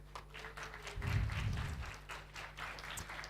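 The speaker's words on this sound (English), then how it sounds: "Everybody, please share a big round of applause to Dr." A conference audience claps for a speaker in a fairly faint, distant burst that swells and then tapers off, with low room hum underneath.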